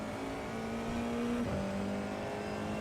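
An FIA F4 race car in iRacing accelerates hard at the Zolder circuit, its engine note climbing steadily, dipping briefly at a gear change and then rising again, loud and close with no voices.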